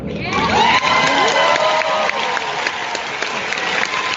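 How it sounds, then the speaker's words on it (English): A political rally crowd applauds and cheers loudly, with sustained clapping, a few shouts rising above it and a voice ringing out early on before the noise settles into steady applause. "listen to all these mouth breathers applauding that"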